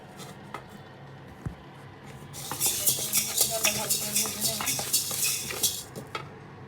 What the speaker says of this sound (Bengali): মুগের ডাল ভালো করে ভেজে